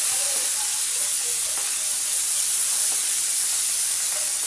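Fish belly pieces frying in a pan produce a continuous, even hiss of hot oil, steady and close with no other sounds and no talk.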